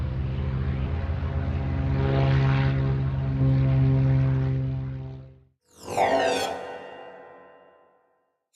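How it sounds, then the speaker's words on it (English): A propeller plane drones loud and close with a steady, throbbing engine tone for about five seconds, then cuts off abruptly before a rising, whining engine sweep follows. "Propeller plane."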